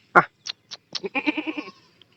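Goats on a farm bleat in a short run of calls, several brief bleats followed by one longer wavering bleat, close and clear with no talking.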